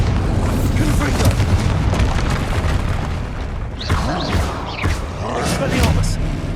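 Confringo and Bombarda spells exploding in the Hogwarts Legacy video game, with repeated deep booms and bursts rolling under a continuous background, while a voice shouts spell names over the blasts.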